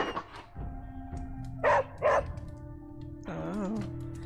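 Dog in the Midnight Suns video game giving a couple of short, close barks and yips, then a whimpering whine, over a low background hum with no talking.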